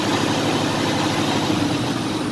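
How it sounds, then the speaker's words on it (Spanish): A Freightliner Cascadia diesel truck engine runs loud and close with a deep, steady rumble, held at a raised, revved pitch for the short span without talk. "Si acelero el motor,"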